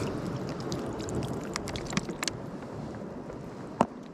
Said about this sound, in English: We'll wash the next one off.